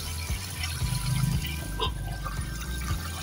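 Water draining steadily from a tilapia tank, a continuous rushing, gurgling flow heard close and fairly loud throughout, with no one speaking.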